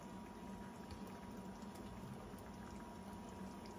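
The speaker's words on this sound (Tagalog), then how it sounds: "Tapos papakuluan na natin siya, guys." Paksiw na bangus, milkfish with eggplant, simmering in a pot, a faint steady bubbling hiss that runs on without a break and with no talk.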